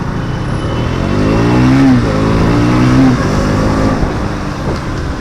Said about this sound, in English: Now I'm riding the bike in 4th gear and it's pulling even in 4th gear reasonably well.